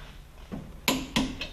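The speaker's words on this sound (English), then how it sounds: "So we're going to get the final torque on this one." Torque wrench clicking as cap bolts are tightened on a ring and pinion gear housing, with two sharp metallic clicks close together and a fainter third, preceded by a soft knock in a quiet shop.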